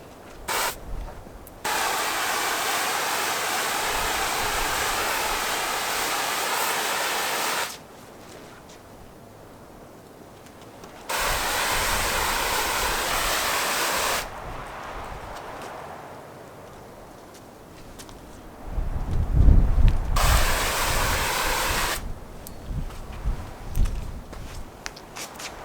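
Water from a hose rinses over a car's waxed paint in a loud, hissing spray that runs in several long bursts with quieter pauses between, plus a few thumps near the end.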